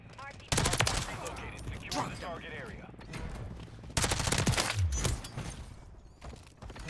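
Gunfire in Call of Duty: Modern Warfare 3, a suppressed MP5-style submachine gun with a Lachmann shroud, with sharp bursts of shots at the start and again midway over steady game ambience.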